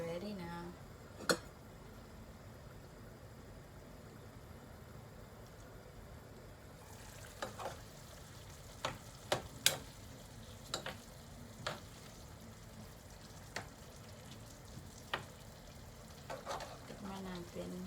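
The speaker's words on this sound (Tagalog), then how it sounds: "Kaya natin siyang kumulo para lumapot din yung sauce" A pork liver sauce simmers and thickens in a pan, giving a soft continuous bubbling sizzle with occasional sharp clicks and taps of a utensil against the pan.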